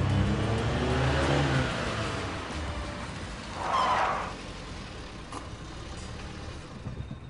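An engine in an Iranian film scene roars as the driver steps on the gas and the car accelerates. The steady loud drone swells briefly partway through, then settles into a continuous rumble.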